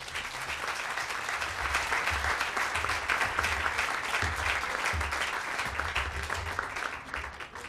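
An audience claps steadily and densely through the whole stretch to welcome author Steve Coll at a book festival, a sustained wash of applause that fades slightly at the very end.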